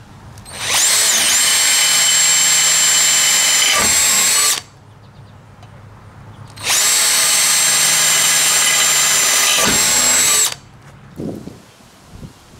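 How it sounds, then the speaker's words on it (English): A power drill with a 1/8 inch bit bores pilot holes into a trailer tongue during a folding tongue kit install, two loud sustained whining runs of about four seconds each separated by a quiet pause. "Now that you've got all of your pilot holes drilled, I used an 1/8 inch drill bit."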